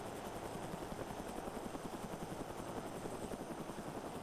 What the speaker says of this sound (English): You see the helicopter will start to fly forwards.